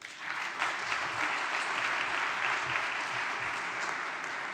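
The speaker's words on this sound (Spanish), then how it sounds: "Un aplauso, por favor." An audience at a talk on bibliographic heritage applauds, a dense, even patter of many hands that holds steady for several seconds, unaccompanied by speech.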